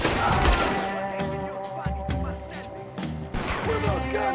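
Gunfire in Red Dead Redemption 2, with several sharp shots and thuds scattered amid game sound effects and a tonal music bed, close and fairly loud over about four seconds.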